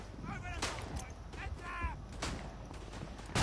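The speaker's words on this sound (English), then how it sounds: "Well, that was a good grenade." Grenade explosion in the WWI shooter Verdun, heard amid battlefield noise with several sharp cracks and booms spread across a few seconds, a voice speaking underneath, ending in a louder blast.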